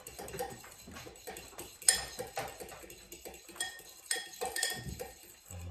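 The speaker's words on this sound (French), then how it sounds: "Donc je vais prendre, hop, une fourchette. Hop, on mélange tout ça." A fork clinks repeatedly against a bowl while mixing fritter batter for homemade sea bream fritters, quick light taps and scrapes in an irregular rhythm, close and fairly quiet, with no talking.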